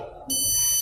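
Arduino buzzer alarm set off by a PIR motion sensor: a loud, steady high-pitched electronic tone switches on abruptly and holds for about half a second before cutting off, following a softer low hum.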